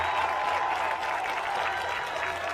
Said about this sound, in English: just listening to that crowd is amazing